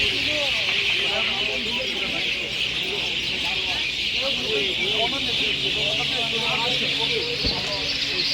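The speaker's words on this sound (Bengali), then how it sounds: "পাখির কিচিরমিচির আওয়াজটা যা ভাল লাগতেছে" Early-morning birds chirp and twitter busily in the open along a roadside, a dense continuous chorus heard with someone talking over it.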